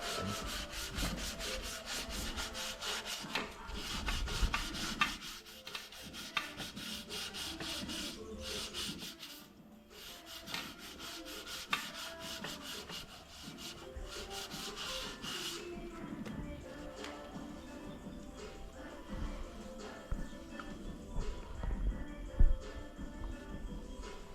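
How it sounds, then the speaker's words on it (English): Steady scratchy rubbing of sandpaper on a wooden compass mount for a catamaran, hand sanded in continuous back-and-forth strokes, close and fairly loud, with no talking. "Left hand sanding."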